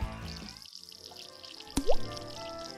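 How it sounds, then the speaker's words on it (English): A Lego minifigure drops into water with a single sharp splash and bubbly plop near the end, after a quiet, faintly humming stretch. "what if I put Lego in the water?"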